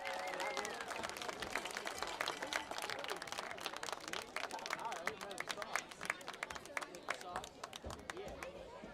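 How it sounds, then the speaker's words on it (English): Crowd applause at a high school football game for the Burgettstown Devilettes dance team and the Avella Marching Band, sustained clapping and cheering from a stadium audience that sounds fairly distant, with crowd chatter mixed in. "Let's give another round of applause for the Burgettstown Devilettes and the Avella Marching Band."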